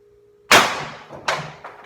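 Two sharp pneumatic shots from a modified Pepperball VKS launcher, each a close, loud crack with a quick decaying tail, the second following less than a second after the first.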